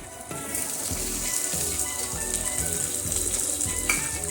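Chopped onions frying in oil with cumin in a pan, a steady close sizzle that runs throughout without pause, for a Punjabi potato and bitter gourd curry.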